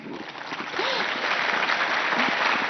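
Audience applause at a religious discourse and political gathering, a dense, steady wave of clapping that swells after the first second and holds loud and continuous, with faint voices mixed in.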